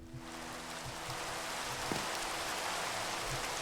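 Steady rain hisses without a break in Minecraft, with a few faint low tones and soft thuds underneath.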